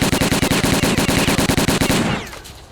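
Sustained automatic gunfire rattles in Stalker: Call of Pripyat, a loud, rapid, evenly spaced burst of shots that runs about two seconds before trailing off into an echoing tail.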